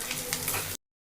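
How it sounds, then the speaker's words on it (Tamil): Lentils, coriander, chillies and coconut fry in oil with a dense, steady sizzle for under a second before cutting to silence. "இதெல்லாம் நம்ம கொஞ்சமாக எண்ணெயை விட்டு வறுத்து வச்சுருக்கோம்"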